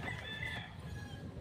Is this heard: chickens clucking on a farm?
yes